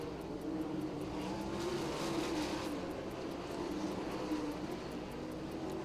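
410 sprint cars racing at Lincoln Speedway, a constant distant roar of engines circling the track, heard from afar as a steady droning wash.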